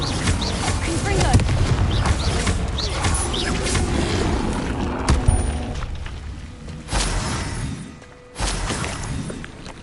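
A Confringo blasting curse from a Harry Potter game explodes amid dense combat noise: booming blasts and crashes, a sharp hit near the middle and another surge near the end, with voices underneath.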